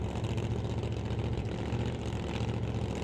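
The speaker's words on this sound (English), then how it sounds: "So Steve Horn idles down the racetrack" A drag racing car at a racetrack event rumbles at idle, a steady, loud, low engine drone that holds constant throughout with no voices.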